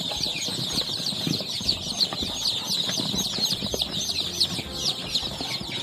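Over a hundred three-day-old domestic chicks, some Australorp layer chicks among them, peep constantly in a shrill, overlapping chorus, with soft clucks and wing flutters beneath, close and steady throughout.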